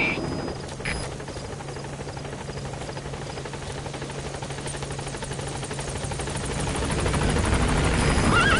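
Helicopter approaching a landing zone in Metal Gear Solid V: The Phantom Pain, a steady rotor thump and drone that holds near-constant, then swells louder as it draws closer.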